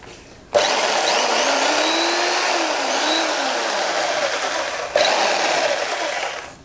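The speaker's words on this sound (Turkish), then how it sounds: "Şimdi bir tane makine takıyoruz. Degobajımızı takıyoruz." A jigsaw plugged into a newly wired electrical outlet switches on with a sudden buzzing whine and runs steadily and loudly. It cuts out briefly near the end, then restarts and keeps running; no one speaks.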